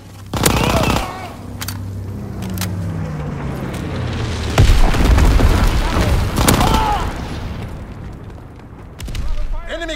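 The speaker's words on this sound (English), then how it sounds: "incendiary bombs incoming!" Incendiary bomb blasts and gunfire in a Call of Duty: WWII multiplayer match on the USS Texas map, with heavy booms around the first and fifth seconds and rattling machine-gun bursts throughout, under in-game voice callouts.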